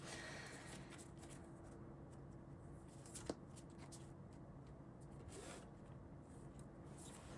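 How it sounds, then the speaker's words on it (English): Tarot cards being shuffled during a tarot reading, a steady soft papery riffling and sliding that runs throughout, close and fairly quiet, with one sharp tap near the middle and no talking. "I want to pull some more cards."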